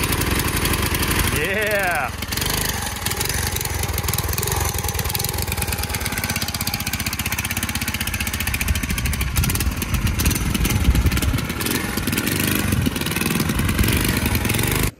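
An abandoned 1980s MTD mini bike's small engine runs steadily throughout, a close, buzzing putter with a lawnmower-like idle, while people talk briefly over it.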